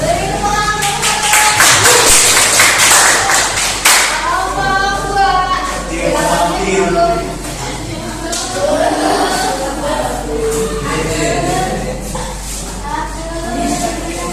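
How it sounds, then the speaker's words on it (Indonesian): Classroom students clapping hands in a brief burst, followed by a teacher and children talking over a low steady hum. "Beri tepuk tangan."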